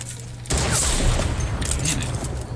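Fortnite gunfire in a Champion League Duos match, a sudden loud burst of rapid shots that erupts after half a second of near quiet and continues as a harsh, crackling volley.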